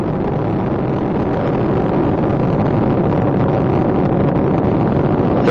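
The three liquid-fuel main engines of Space Shuttle Discovery roar during the STS-124 launch. The sound is a loud, steady, dense rumble with wind-like buffeting that stays unbroken from start to finish.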